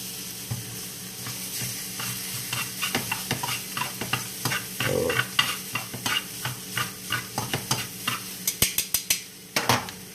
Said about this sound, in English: Your pork steak, flip it over.